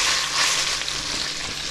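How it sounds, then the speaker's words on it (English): Smoked bacon and cheese curd pasta fries in a pan with a continuous, loud hissing sizzle, steady and alone with no voices. "Just fry everything up together."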